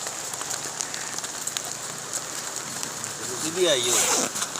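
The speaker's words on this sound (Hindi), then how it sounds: "और बाहर ओले पड़ रहे हैं।" A steady dense patter of hail drums on the tent fabric at a mountain campsite, with a brief voice rising near the end.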